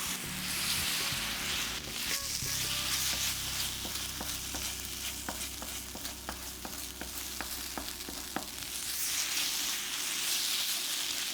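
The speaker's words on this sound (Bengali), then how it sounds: "জলে গুলে মশলাগুলো দিয়ে দিচ্ছি" Water-thinned spice paste hits frying meat for Bengali kosha mangsho, giving a steady, close sizzle that carries on throughout with light stirring scrapes mixed in.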